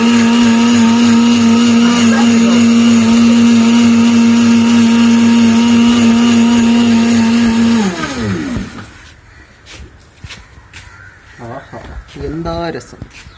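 Blender whirring loud and steady for about eight seconds as it churns a Parle-G biscuit milkshake, then winding down and stopping, leaving quiet room sounds and a brief voice.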